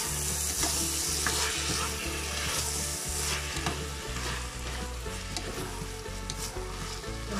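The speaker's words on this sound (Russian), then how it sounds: "обжариваем это 15 минут" Ingredients for solyanka soup, with tomato paste added, fry and sizzle in a pot, a loud steady crackle close up with occasional stirring scrapes and a low rhythmic background hum, no talking.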